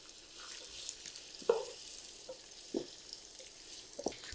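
About 300 grams of chopped onions frying in hot oil for egg dum biryani: a steady close sizzle and hiss, with a few louder crackling bursts as the pieces are stirred.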